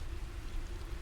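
Steady rain falls in a soft, even wash with a low rumbling bed beneath it, continuous and close, on a rainy evening by a fire, with no voices.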